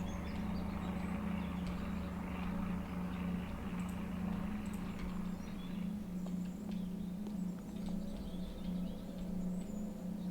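A helicopter-like engine in the SurrounDead survival game drones steadily with a low, continuous hum and a faint rhythmic chopping texture, holding at a moderate level throughout with no talking.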